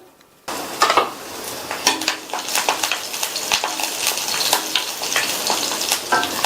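Green chilies, ginger and curry leaves sautéing in hot oil with spluttered mustard seeds, starting with a sudden loud sizzle, then steady frying crackle and repeated spoon scrapes against the pan.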